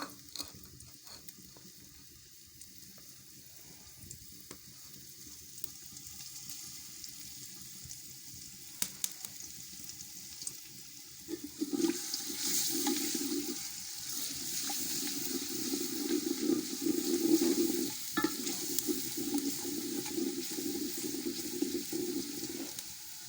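Garlic dropped into hot cooking oil for a kadhi: after a quiet stretch with small clinks, a steady bubbling sizzle rises about halfway through and keeps building to a dense, moderately loud crackle, with no talking.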